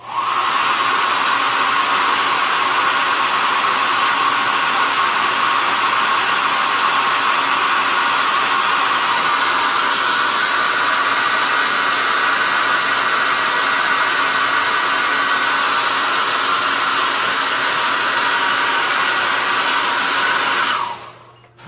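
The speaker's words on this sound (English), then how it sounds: "I'm going to use a hair dryer." A hair dryer blows steadily for about twenty seconds, a loud, even whooshing hum that cuts off abruptly at the end.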